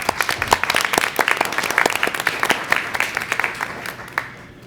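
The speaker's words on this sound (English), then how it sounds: "So give them a round of applause right now." A school board meeting crowd applauds the state champion game day cheerleading team, with steady, dense clapping from many hands that carries on for several seconds before tapering off at the end.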